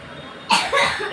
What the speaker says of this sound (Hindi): इसको खांसी हो रही है थोड़ी सी अभी।